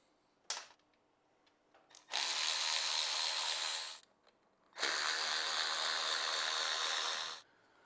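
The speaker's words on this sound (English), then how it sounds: "So right now we're going to go ahead and loosen up these two" A ratchet loosens T25 bolts on a titanium motorcycle exhaust, one brief click near half a second, then two long sustained bursts of rapid, close ratcheting with a short pause between, no talking.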